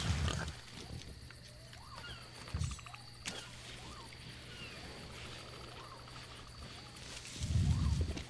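Pigs grunt and oink in a video game, low snorts near the start and louder grunting at the end, with faint ambient chirps between.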